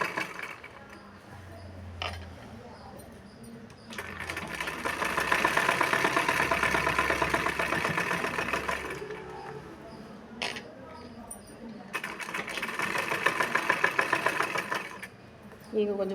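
A sewing machine runs in two sustained bursts while a blouse sleeve is stitched, a steady mechanical whirring with rapid needle clatter, separated by quieter pauses with small clicks and handling sounds.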